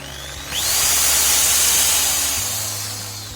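A Maktec MT80B power drill by Makita spins up quickly to a high-pitched whine and runs steadily at full speed, loud and close, then begins to slow slightly.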